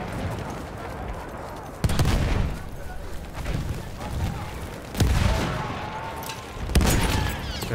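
Gunfire and explosions from a Battlefield 1 match, with three sharp loud bursts standing out over a constant rumbling battlefield din, and a voice faintly audible beneath.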